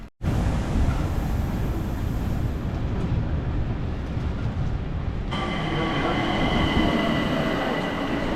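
Subway train pulling into a station in Salzburg, Austria, a loud continuous rumble of rolling cars, with brake squeal and a high ringing whine rising near the end as it slows.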